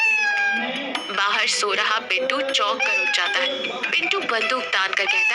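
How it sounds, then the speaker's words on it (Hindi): A cat meows loudly and repeatedly in a dramatized animated scene, drawn-out wavering yowls over a busy backdrop of music and sound effects while a narrator speaks throughout. "बिल्ली जोर से म्याऊं म्याऊं करती है"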